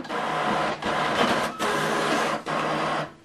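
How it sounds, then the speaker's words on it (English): An Epson printer prints a document, its steady mechanical whirring running in three long passes broken by brief pauses as the paper feeds, close and fairly loud with no talk. "Now this document is printing."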